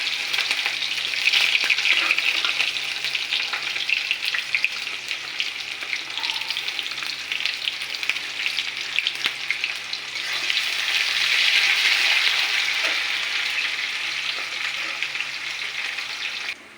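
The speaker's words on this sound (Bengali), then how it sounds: "পেঁয়াজটা আমি লাল করে ভেজে নিব।" Chopped onions frying with bay leaves in a wok of oil, a loud continuous sizzle with occasional stirring scrapes, swelling slightly midway, no talk.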